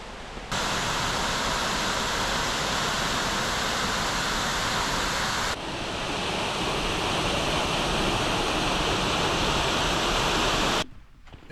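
Miners Falls, a waterfall in Pictured Rocks National Lakeshore, heard as a loud, constant broadband rush of falling water that holds steady throughout with a brief shift midway and a sudden cutoff near the end.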